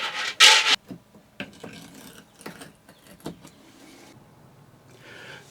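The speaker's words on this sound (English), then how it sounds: "I'm going to go ahead and clean this silicone off right now" Old silicone residue being scraped off an RV sink, with a loud burst of harsh scraping near the start followed by quieter intermittent scratches and rubbing strokes close up.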